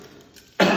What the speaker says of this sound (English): Just to demonstrate, if I'm coughing,